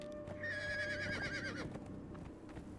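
A horse in the survival game Conan Exiles gives one loud, close, wavering whinny, while hooves clip-clop softly and irregularly underneath and continue after the neigh fades.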